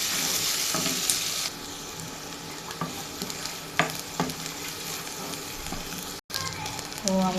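Onions sizzle and fry in hot oil in a home kitchen, with steady crackling throughout, broken by stirring and utensil clinks and a brief gap near the end, while a voice talks over it.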